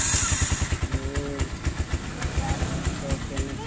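A TMX 125 motorcycle engine runs after a starter kick, putting out a fast, even, pulsing idle thump that sounds close. A person speaks over it.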